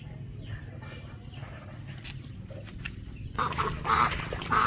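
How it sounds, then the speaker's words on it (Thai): Ducks quack in a cluster of nasal calls near the end, rising over a steady outdoor background hum. "เป็ดก็มี"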